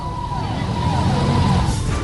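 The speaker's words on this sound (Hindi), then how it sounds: "दिल्ली पुलिस ने भी सायरन बजाते बाइक से की एम्स की परिक्रमा" Wailing sirens from Delhi Police motorcycles circling AIIMS hospital in Delhi, sweeping up and down in pitch over steady road noise and a crowd murmur.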